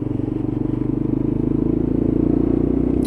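A Lexmoto LXR 125 motorcycle being ridden, its small single engine giving a steady pulsing drone with a fine rapid throb, loud and close with some wind rush, no talk.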